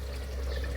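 Hot water poured into a pot in a home kitchen while pulao is being prepared, making a steady, close rushing splash with no pauses or talk.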